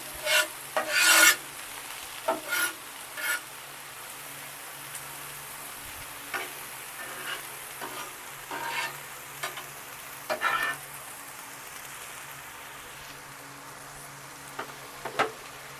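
Smash burger patties frying on a flat-top griddle, a steady low sizzle with scattered scraping and rasping bursts from a spatula, louder near the start and quieter later, with no talk.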